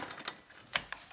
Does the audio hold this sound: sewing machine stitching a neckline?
yes